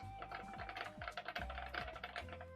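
A very loud computer keyboard typed on close by, a fast run of sharp clacky keystrokes over a faint steady hum.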